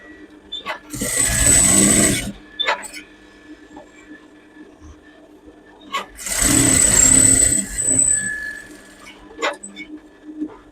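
A sewing machine stitches a stand collar onto a dress neckline in two steady whirring bursts, each lasting a couple of seconds, with someone talking between and over them.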